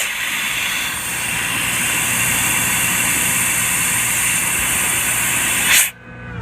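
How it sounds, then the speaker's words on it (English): Winton prop-shaft driven compressor generator mounted under a van, running with a loud, steady close-up hiss and mechanical drone that cuts off abruptly near the end. "Okay, I'll turn the compressor on."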